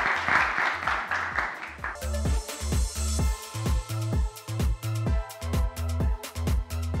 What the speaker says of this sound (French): Nous avons applaudi Dali, s'il vous plaît.